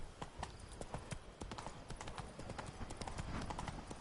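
Roach the horse galloping in The Witcher III on PS5, a dense, fast clip-clop of hooves running continuously and loud throughout, with no talk.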